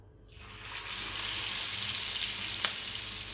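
Keto-style chicken pieces drop into hot oil and the sound swells within a second into a loud, steady hiss of deep frying, with one sharp clink partway through and no talk.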